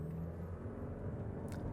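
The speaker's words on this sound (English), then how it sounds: "it does have the typical CVT noisy 4-cylinder engine sound where the engine revs up when you demand a little bit of gas" A Toyota Crown with a CVT and a 4-cylinder engine is being driven, giving a steady, faint cabin drone and low rumble with no talking.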